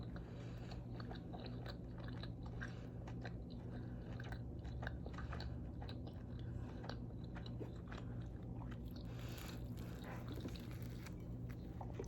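Close chewing of a crunchy pastry topped with sugar, hazelnut and poppy seeds, with steady crisp bites and soft mastication continuing without talk.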